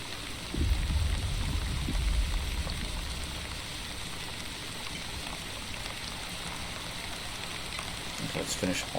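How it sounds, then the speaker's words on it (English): Rain falls in the village-building video game The Wandering Village, a steady wash of light hiss and patter that stays even throughout, with a muffled low rumble near the start and faint clicks near the end. "starting to rain."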